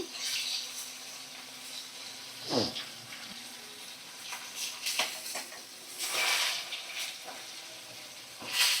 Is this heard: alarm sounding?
no